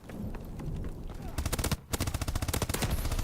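Gunfire in Call of Duty: Advanced Warfare, with scattered shots at first, then loud close automatic bursts of rapid rhythmic rounds that break briefly and resume, while a voice talks over it.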